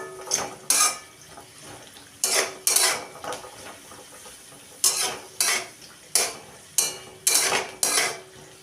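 Onions fry in a pan for an Andhra-style dry chicken dish while a spatula stirs them. Repeated sharp scraping and clattering strokes come in irregular bursts over a faint, low sizzle.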